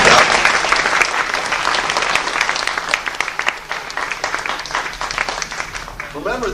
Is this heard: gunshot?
no